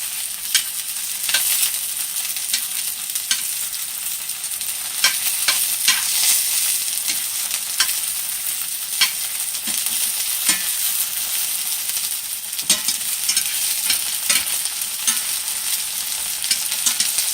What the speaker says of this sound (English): let them sit here and fry like this for another 2 or 3 minutes